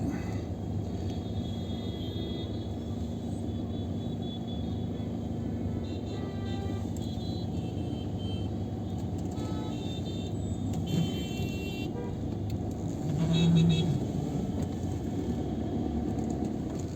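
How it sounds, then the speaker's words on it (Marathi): Dense road traffic on a Mumbai street, with a steady low engine rumble throughout and a few short car horn toots sounding at a distance. "भयंकर ट्रॅफिक आहे मुंबईमध्ये कोण कसं कुठून कसं घुसल"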